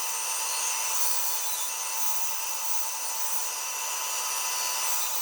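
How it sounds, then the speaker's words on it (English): A bandsaw cuts the side profile of a wooden base in a beginner woodworking project, giving a steady, continuous hiss-like whine that stays loud and even throughout, with no talking. "It's got to take it in the cuts nice and slow on a bandsaw."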